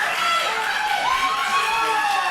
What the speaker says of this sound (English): the fans cheering for him to get in